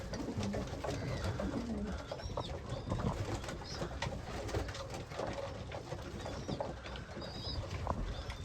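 Pigeons coo repeatedly in a loft, the soft throaty calls overlapping close by with steady background rustle and occasional wing flutters, no talking.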